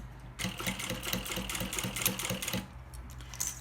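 A sewing machine stitches a baby bag in one close run of quick rhythmic needle clatter lasting a couple of seconds, then stops with faint handling noise after.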